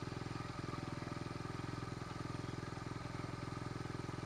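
A Honda XR75 motorcycle engine idles close by in a steady, rapid, even putter that holds without a break, with no voices.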